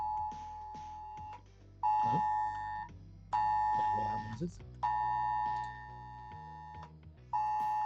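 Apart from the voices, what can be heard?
UK government emergency weather alert sounding on a phone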